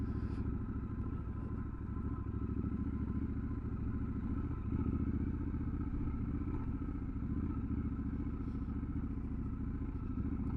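A heavy Triumph Scrambler 1200 XE motorcycle rumbles steadily while riding off-road, its engine drone continuous and close, with light clattering over rough ground and no talk.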